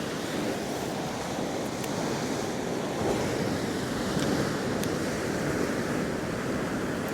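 Steady wind gusting across an open seashore during a late-season cod fishing session, a broad continuous rush with surf washing underneath, buffeting the microphone without letup.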